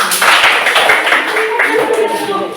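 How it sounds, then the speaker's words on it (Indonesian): A crowd claps together in a steady, dense patter, sustained throughout with voices mixed in underneath, at a classroom or school gathering. "Oke, sudah ya, tepuk tangan."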